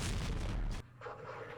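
Mortar fire in the Vietnam wargame Campaign Series Vietnam, set in the Mekong: a loud, dense blast lasting under a second, then dropping sharply to a lower rumbling tail.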